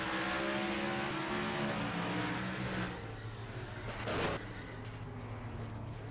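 Onboard race car engine in a Bristol Motor Speedway race video game, a loud steady drone of high revs with shifting engine tones and a brief sharp burst near the end, no voices.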